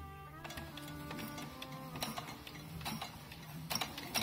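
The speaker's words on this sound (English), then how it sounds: "you take a spare piece of fabric and put it under your foot of your machine" A home sewing machine stitches across a spare scrap of fabric with quiet, rapid mechanical ticking and whirring, a brief whine at the start and short clicky bursts, soft and close.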